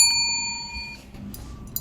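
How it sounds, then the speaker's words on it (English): A single bright, bicycle-style bell ring sounds once and hangs for about a second before fading into quiet. "If you have an actual bell, hit it."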